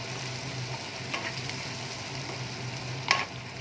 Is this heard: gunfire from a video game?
no